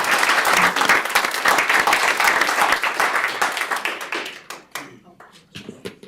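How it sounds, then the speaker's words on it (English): Audience applause at a county commission public meeting, with dense clapping that thins out into scattered individual claps near the end. "Yes, that does deserve applause"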